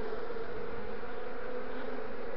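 A honeybee swarm with young queens buzzing around a hollow in a linden tree, a dense, steady close drone of many wings without pause.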